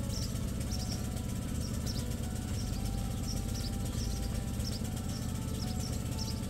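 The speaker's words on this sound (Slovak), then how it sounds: "Hlučnosť na vzdialenosti 10 m bez zaťaženia" An Excellway 2200W petrol generator running unloaded, heard from about 10 m away: a steady, even engine drone with no load changes, faint and continuous, with light chirping in the background.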